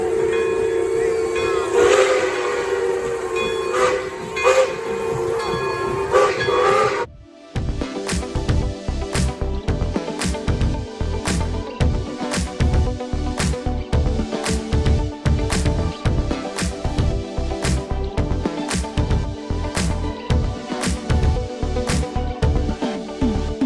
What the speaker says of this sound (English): This is a review of the Jensen Model 75 steam engine